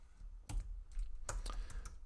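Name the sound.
typing on a computer keyboard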